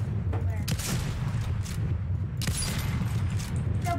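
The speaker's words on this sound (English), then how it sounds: "Someone's shooting." Distant gunfire in Fortnite, a rapid crackle of shots running steadily through the whole stretch, moderately loud with a low rumbling bed beneath, and a few sharper bursts standing out.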